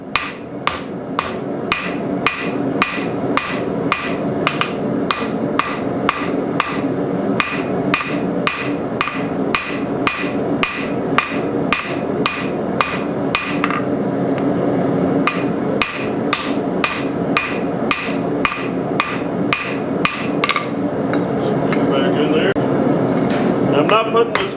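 A vintage blacksmith hot cut is hammered on an anvil, held at an angle while being drawn out: a long run of sharp, ringing metal strikes in a steady, regular rhythm, close and loud.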